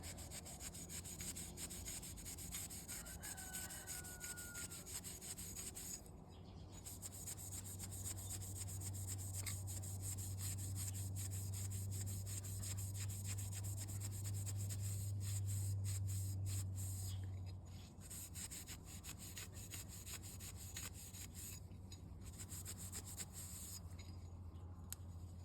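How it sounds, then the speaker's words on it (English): A fine gray Scotch-Brite pad scrubs a Damascus steel knife blade during etching, giving a steady close rubbing hiss that swells in the middle and continues without talk. "I'm going to take this fine Scotch-Brite, the gray colored Scotch-Brite,"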